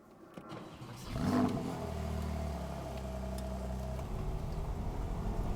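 A manual 991.2-generation Porsche 911 Carrera GTS engine starts up and settles into a steady, loud idle rumble, holding a low droning tone for several seconds with no talking.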